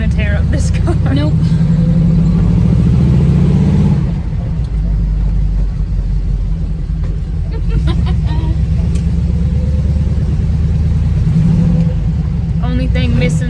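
Steady low engine rumble from a 1969 Camaro cruising at about 30 mph, a continuous near drone with slight surges and road noise throughout.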